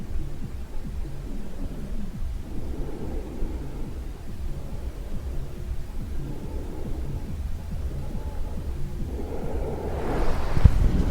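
Wind moving outdoors on a morning in nature, a steady broad whoosh with some microphone buffeting, continuous and fairly loud throughout, growing rougher near the end.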